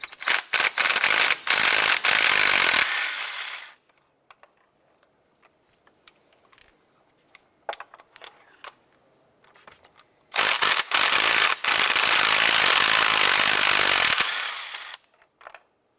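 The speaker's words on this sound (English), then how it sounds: "Using a 16mm deep socket or a spark plug socket, I'm going to go ahead and remove the spark plug." A 16mm deep spark plug socket on a ratchet backs a spark plug out of a 2001-2005 Honda Civic engine, with loud, steady rasping bursts at the start and again later, separated by quiet stretches of faint clicks.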